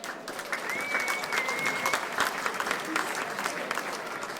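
Audience applause for a 1967 Victorian State League championship soccer team at a celebration night in Wantirna, Victoria; steady, dense clapping from a sizeable crowd sustained throughout, with a faint tonal whistle partway through.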